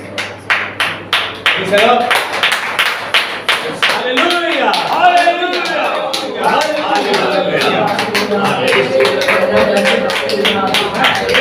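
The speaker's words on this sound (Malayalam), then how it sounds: "ഈ 2025 കൈയടിച്ച് സ്വാഗതം ചെയ്തു." A church congregation claps together in welcome of the new year 2025, a burst of many hands near and loud, with voices speaking and calling out over and after the applause.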